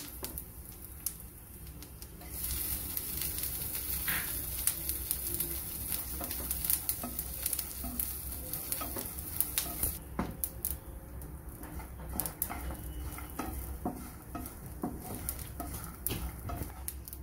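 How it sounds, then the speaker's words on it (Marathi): Green chilies and sesame seeds sauté in a pan with a faint, steady sizzle and light spattering crackles, punctuated by occasional stirring clinks and scrapes. "याच्यामध्ये थोडी परतून घेते। याच्यामध्ये तीळ टाकत आहे"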